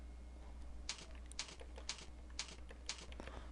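Computer keyboard keys pressed during a Delphi 7 programming lesson, about six sparse, crisp clicks spaced roughly half a second apart, close and quiet over a steady low electrical hum, with no talking.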